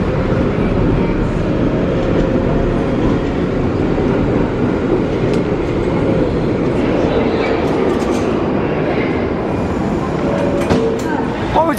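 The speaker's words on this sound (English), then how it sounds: "There it is, the New York subway." A New York City subway train rolls along underground with a loud, continuous rumble and rattling clatter of the cars. Faint squeals and clicks rise near the end, and background voices are faintly present.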